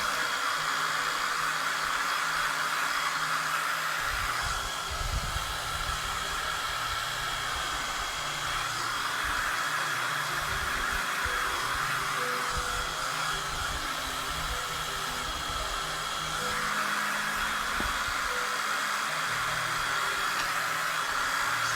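A hair dryer blows steadily for a long stretch while drying a craft farmhouse Christmas tree scene, a constant close whoosh and hiss that rises and falls slightly as it moves.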